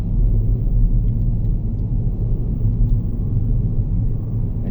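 Cars idle in a road traffic jam, a steady low rumble of engines holding close and loud throughout with no talk.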